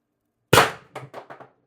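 A Pistelle X-68 airgun pistol fires one loud, sharp shot up close, followed by a few quick rattling clanks that fade within about a second.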